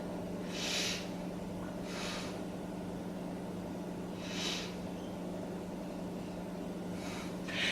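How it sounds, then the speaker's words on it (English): Slow deep breaths taken during a beginner yoga exercise, with several soft airy exhalations spaced a few seconds apart over a steady low room hum. "Let's take 3 breaths here."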